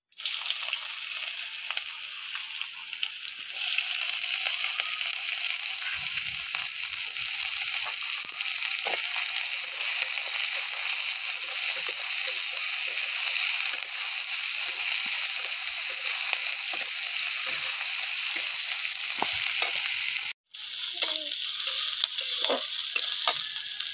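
Steady, loud sizzling of chopped onion frying in hot oil with black cumin seeds, a bright continuous hiss that swells after a few seconds and drops out briefly near the end.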